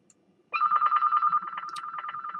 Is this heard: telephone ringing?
yes